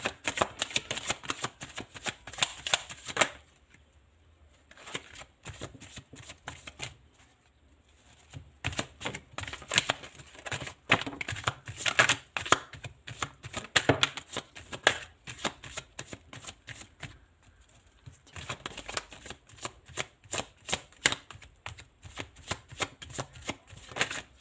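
Tarot cards shuffled by hand up close, rapid riffling bursts in several long runs separated by brief pauses, no talk.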